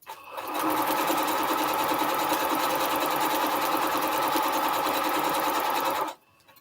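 A sewing machine stitches quilt strips together along a quarter-inch seam guide for a Triple Irish Chain quilt, running in one steady, loud burst for about five seconds before stopping abruptly.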